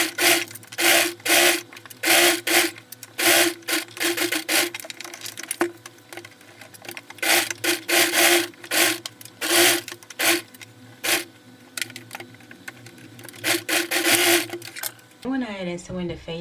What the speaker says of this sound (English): then you can go ahead and sew it